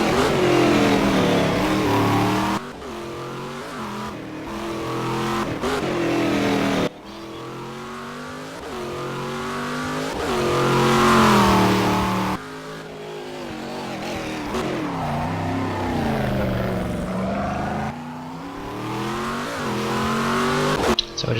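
A race car in the Game Stock Car 2012 sim racing game laps the Ribeirao Preto circuit during practice, its engine revving loudly, climbing and dropping sharply with each gear shift and corner in a continuous run.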